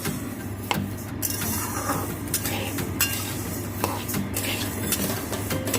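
Rice and lentils for bhuna khichuri stirred in a pot, a steady scraping and rustling over a low hum with intermittent metallic clinks of the spoon, close by.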